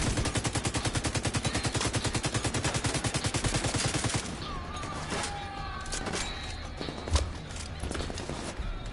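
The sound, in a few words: gunfire in a video game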